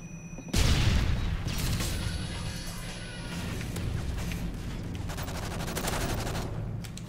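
A sudden loud grenade blast in Call of Duty MW3 followed by sustained rattling gunfire and further booms, close and intense, with a lingering crackle as the firing continues.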